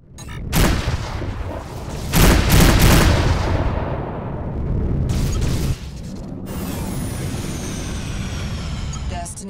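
Space combat in the video game Rebel Galaxy Outlaw: loud, near bursts of gunfire and booming missile blasts over a continuous roaring rumble, with a long swelling explosion midway and a synthetic voice briefly heard.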